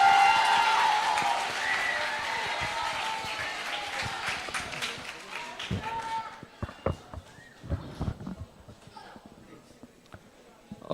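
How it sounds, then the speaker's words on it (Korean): Audience applause in a middle school gambling-prevention class welcoming a police-studies professor, a dense clapping wash for about six seconds that thins into scattered claps and fades. "자, 박수로 맞아주시기 바랍니다."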